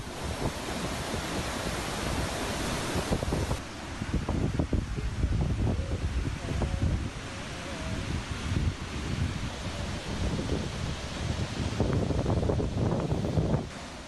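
Gokak waterfall in Karnataka during the monsoon roars with a constant, dense rush of falling water, loud and unbroken, with gusts of wind buffeting the microphone and no voices.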